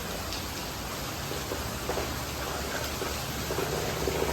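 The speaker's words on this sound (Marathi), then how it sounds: "पाऊस खूप आहे" Heavy monsoon rain near Pen, Hamrapur, falls as a steady, dense hiss that stays even throughout, with no voices over it.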